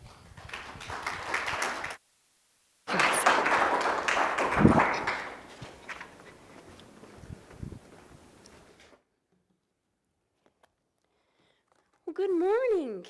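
A crowd at a university symposium on religious inclusion breaks into applause, a dense wash of clapping that swells, holds for several seconds and then fades, followed by near silence.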